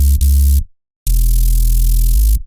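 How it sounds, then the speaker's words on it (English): Clean synth noise layer in an electronic music production, a steady loud hiss with a tonal low drone beneath, cut off by a brief silence before resuming evenly to the end. "I just prefer this clean noise sound"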